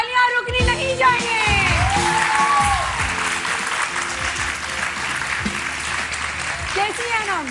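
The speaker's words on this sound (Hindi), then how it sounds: "तालियां रुकनी नहीं चाहिए।" A studio audience on a Pakistani morning TV show applauds a guest's entrance: dense, sustained clapping that stays loud from start to finish, with a host's voice talking over it.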